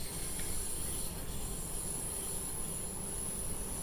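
Train wheels screech on the Mittenwaldbahn route in the Railworks train simulator: a sustained, thin, high-pitched squeal over a constant rumbling rolling noise. The sound stays steady throughout and no one speaks.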